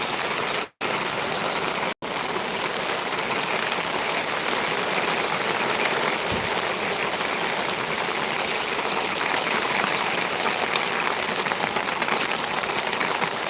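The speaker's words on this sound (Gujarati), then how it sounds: "ધીમો ધીમો વરસાદ ચાલુ થયો" Steady light rain in Chavand patters evenly on surfaces, a soft continuous hiss close by, briefly cut twice early on, with no voices.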